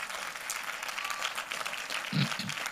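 A church congregation applauds, a dense even clapping that holds steady and swells slightly near the end, with a couple of low thumps.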